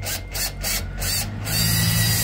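A power drill fitted with a wood drill bit bores into wood during a locksmith mortice drill template demonstration, giving a steady close grinding whir with rhythmic gritty pulses.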